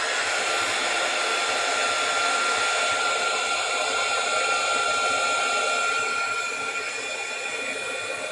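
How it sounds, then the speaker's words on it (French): A heat gun blows a loud, steady, close roar of hot air while melting embossing powder on a card, tapering slightly near the end. "je reprends mon pistolet chauffant et je vais fondre"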